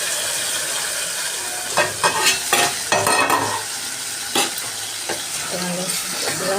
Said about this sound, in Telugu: కొద్దిసేపు ఆయిల్లో ఉడకనిద్దామండి ఇది